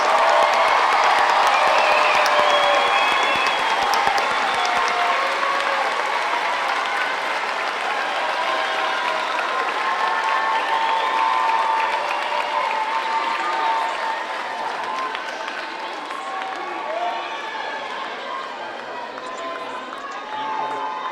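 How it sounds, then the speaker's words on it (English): A large high school graduation audience applauds honors graduates, with continuous dense clapping and scattered cheers holding strong for many seconds before easing slightly in volume toward the end. "Let's give all the honors graduates a big round of applause."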